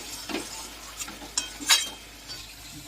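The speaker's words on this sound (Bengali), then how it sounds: "এবার ভালো করে এটা কষিয়ে নিচ্ছি। তেল ছেড়ে আসবে" Chicken masala stirred and sautéed in oil, giving a few soft scrapes and light clinks of a spoon in the pan over a faint low sizzle, close and sparse with no voices.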